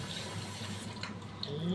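Tap water running into a kitchen sink as food is washed: a steady, moderately soft hiss and splash of flowing water, with a few faint clinks, continuous and close.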